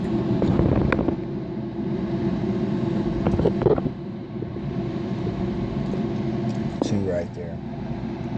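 A generator runs steadily while charging a battery bank through a Powerjack 8000 watt low-frequency inverter, giving a constant low engine drone with a few brief clanks. Someone talks over it.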